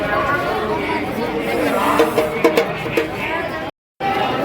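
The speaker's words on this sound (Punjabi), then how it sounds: "ਤੁਸੀਂ ਵੇਖ ਸਕਦੇ ਹੋ ਕਿੰਨੀ ਭੀੜ ਲੱਗੀ ਹੈ" Dense crowd chatter at a fair, many voices overlapping in a steady babble with nearby speech on top, cut by a brief silent gap near the end.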